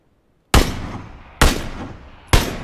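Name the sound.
gunfire in a video game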